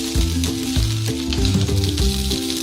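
Garlic mushroom fried rice sizzles steadily in a hot pan with soy sauce and tomato ketchup stirred in, a continuous close frying hiss with no talking.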